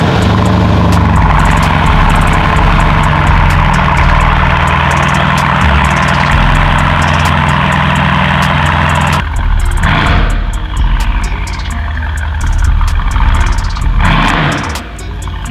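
A Brabus B63 Coupe with a retuned engine computer and adjustable exhaust, its engine idling loudly before the note drops and rises in two sharp revs near the end.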